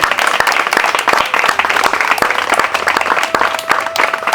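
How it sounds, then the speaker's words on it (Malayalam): An audience of women at an Environment Day gathering claps in a lively, uneven round of applause, with individual claps standing out close by under a loud, steady patter and no talk. "നല്ലൊരു കയ്യടി"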